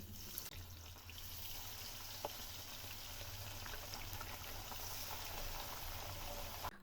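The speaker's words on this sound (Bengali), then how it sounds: "মাছগুলো সব দেওয়া হয়ে গেছে এখন উল্টে পাল্টে হালকা লালচে করে ভেজে নেব" Small puti fish frying in hot oil for a spinach dish, a faint, steady hiss with a soft bubbling texture running throughout and a couple of tiny clicks.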